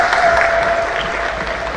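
A church congregation claps for the Lord during a worship service, a dense, steady round of applause lasting under two seconds with a faint sustained tone running underneath.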